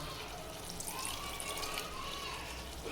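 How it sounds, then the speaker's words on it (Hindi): Water trickles and splashes softly into a pan of karahi gosht, a faint continuous pouring hiss with light bubbling over the low hum of the stove. "अब थोड़ा सा इसमें पानी डालते हैं,"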